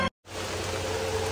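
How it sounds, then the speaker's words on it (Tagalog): Steady, dense hiss of heavy rain pouring down in Canada, continuous and loud after a brief moment of silence at the start. "Lakas ng ulan mga ka-cubes. Sobra. Buhos oh."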